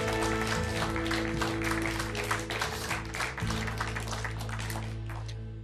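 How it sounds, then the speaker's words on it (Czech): A television talk-show studio audience claps to welcome a guest, a dense, steady wash of applause that is loud and close, running over a low sustained musical tone and fading slightly toward the end. "Už jsem dlouho neslyšel potlesk jako v Hollywoodu"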